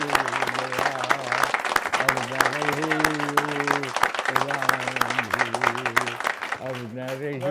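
An audience at a kavi sammelan breaks into loud, sustained applause, with a voice carrying over the clapping throughout.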